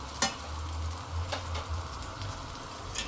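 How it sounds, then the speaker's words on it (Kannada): Soaked, sprouted chickpeas sizzle and crackle as they fry in a pan, with a few sharp clicks from stirring. The frying is close and steady, with no one talking. "ಇದನ್ನು ನೆನೆ ಹಾಕಿ ಇಷ್ಟು ಮೊಳಕೆ ಬಂದಿರೋಂತಹ ಕಡಲೆಕಾಳು ಇದನ್ನು ಹಾಕ್ತಾಯಿದ್ದೀನಿ."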